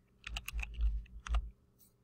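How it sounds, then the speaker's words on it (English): A handful of quick keystrokes clack on a Windows computer keyboard, a short burst of close, crisp taps followed by a single later press. "I'm just going to type snip"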